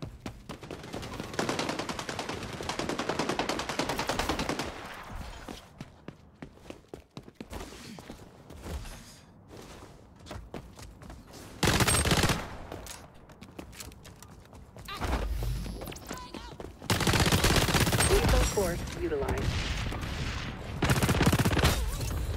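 Bursts of automatic gunfire in the video game XDefiant, several loud close rattling volleys separated by quieter gaps with footsteps and ambient game noise, voices speaking at times between the shots.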